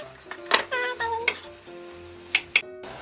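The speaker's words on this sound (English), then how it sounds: "we will add some diced chunk steak and cook until the meat is evenly browned on all sides" Diced chunk steak browns in hot oil, giving a soft sizzle with a few sharp clatters of a utensil against the pan and a faint tonal hum beneath.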